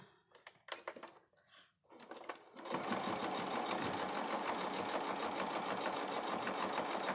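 Sewing machine stitching binding onto a triangle quilt, first a few short stop-start bursts of stitching, then a long continuous run of rapid, fairly quiet stitching.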